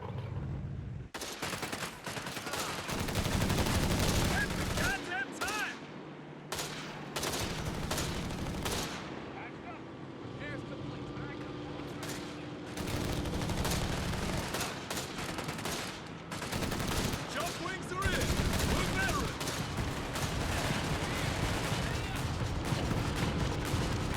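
Dense, sustained gunfire and explosions from a Company of Heroes 3 battle between Wehrmacht and US forces, with rapid automatic bursts, bazooka and tank fire, continuous and loud throughout with brief lulls.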